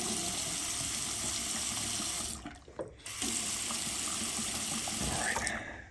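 Water runs steadily from a tap, a loud, close rushing stream that dips briefly before flowing on, with no voices.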